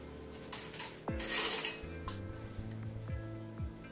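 A metal spoon clinks and scrapes against a pot of spicy Korean tofu soup with mushrooms, giving a few bright taps and then a cluster of ringing knocks and softer scrapes up close.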